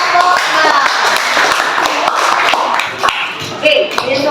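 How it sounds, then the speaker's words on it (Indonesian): Students in a classroom clap for group 6 in loud, busy applause, mixed with overlapping voices and shuffling close by. "Oke, tepuk tangan untuk kelompok"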